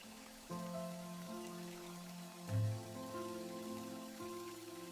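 Raindrops fall from a house roof in a steady, soft patter beneath gentle sustained musical tones, quiet and calm throughout.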